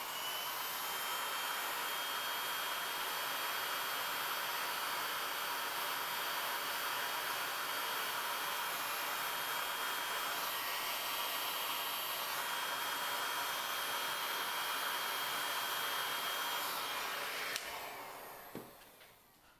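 A hot air blower heating the glass of a Samsung Galaxy S3 roars steadily for the whole stretch, loud and constant with a whistling tone, then tapers off near the end.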